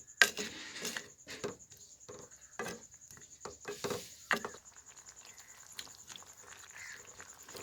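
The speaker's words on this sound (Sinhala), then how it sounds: "මේක අඩු ගින්දරේ හැඳි ගන්න." A spoon stirs chicken stew in a pot over low heat, making faint, scattered metallic clinks and scrapes at an irregular pace in a quiet kitchen.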